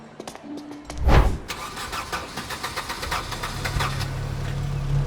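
A car engine cranks briefly, catches with a surge, then settles into a rough, rhythmic idle that keeps running nearby.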